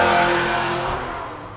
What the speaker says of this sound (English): Did you hear that car? I hate loud cars.